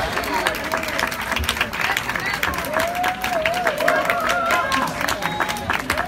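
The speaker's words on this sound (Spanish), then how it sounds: "Aplausos, aplausos," Audience at an awards event honoring women rock and blues musicians applauds and cheers steadily, crowd clapping layered with murmuring voices and a steady wash of noise.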